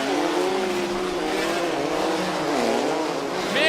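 Several race cars roar around an oval track at a Sportsman division event in Minneapolis, engines loud and close with rising and falling pitch as they battle through a turn, a brief tire squeal at the end, no voices.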